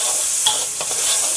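Blended spice paste sizzles loudly and continuously as it is stir-fried in a pan with a spatula, a dense bright hiss with small scraping touches.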